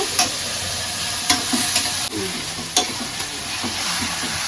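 Spice paste fries hard in a pan, giving a constant close sizzle broken by a few sharp scrapes and knocks of a stirring spoon.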